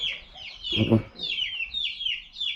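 Chicks cheep in rapid, high repeated peeps close by, while a hen gives a short low cluck partway through.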